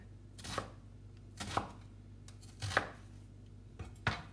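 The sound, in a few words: chopping onion into big pieces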